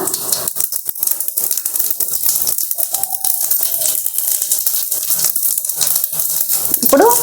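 Spices tempering in hot oil for a yogurt and amaranth-leaf dish, sizzling and crackling in a close, busy spatter that holds steady throughout.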